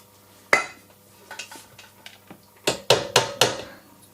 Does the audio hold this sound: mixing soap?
yes